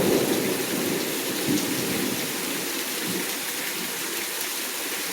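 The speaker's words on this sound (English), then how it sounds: "This is our first true storm." A heavy thunderstorm after a long dry spell, with dense, steady rain hissing across the whole clip and a low rumble of thunder early on, continuous and fairly loud, with no voices.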